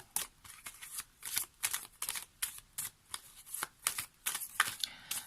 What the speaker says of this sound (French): on va prendre une carte de l'oracle Message des anges